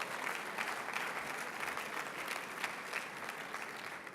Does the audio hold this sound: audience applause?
yes